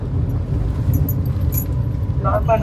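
A car drives along the Mumbai-Goa highway, its low cabin rumble steady underneath while keys jingle lightly and clink a few times near the end.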